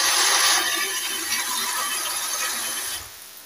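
Hot water runs steadily from a kitchen tap in a home while soup is being cooked, a broad close hiss that carries on for about three seconds and then drops away in level.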